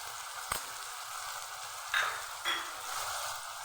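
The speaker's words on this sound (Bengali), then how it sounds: "ভালোভাবে আমি কষিয়ে নেব।" Ginger-garlic paste, green chilli paste, turmeric, cumin and coriander powder sauté in a pan, a close steady sizzle with a few sharp stirring scrapes and bursts of crackle, no voices.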